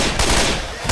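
Rapid, loud gunfire from an advanced weapon in the video game Left 4 Dead 2 fills the moment as a dense burst, close and continuous, with no talk over it.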